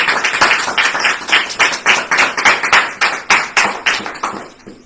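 A church congregation claps in a fast, even rhythm of loud, close hand claps, roughly three per second, with a couple of slight pauses and no talking.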